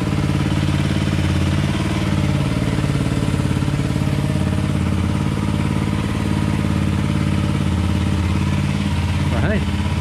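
A Honda CRF 300 Rally with a modified airbox idles close by, a steady, continuous low engine rumble with faint mechanical clatter running through the whole stretch.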